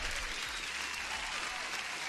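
Brief burst of steady applause, a dense, even wash of many hands clapping from start to finish with no voices standing out.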